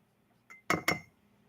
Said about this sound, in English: So you're going to go and take a spoon and try to get as much as you can.